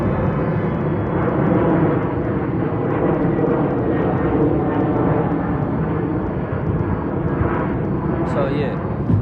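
An airplane passes overhead, a steady broadband roar holding loud and even throughout, with faint voices beneath it.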